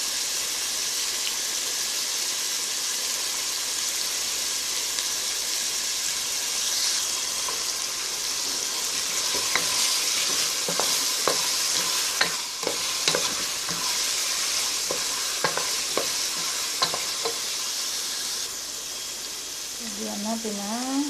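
Chicken sizzling in a pan as tomato paste is added, with continuous frying hiss and intermittent scraping stirs, close and steady throughout, a few utensil clicks near the end.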